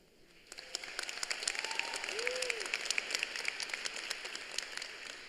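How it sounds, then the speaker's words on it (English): Scattered applause builds from a quiet start at a 2023 commencement ceremony, a large crowd clapping at a distance with individual claps standing out, plus a brief whistle or call. "Listen to the applause."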